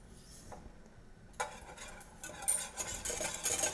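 A whisk scrapes and clinks against a pot as milk heats and thickens, with quiet stirring followed by louder, busier metallic strokes toward the end.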